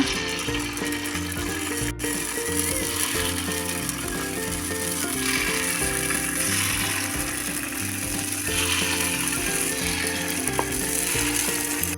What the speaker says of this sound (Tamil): கல் சூடானதும் நம்ம மிக்ஸ் பண்ணி வச்சுருக்கிற மாவை பாதி அளவுக்கு மட்டும் ஃபில் பண்ணிக்கோங்க.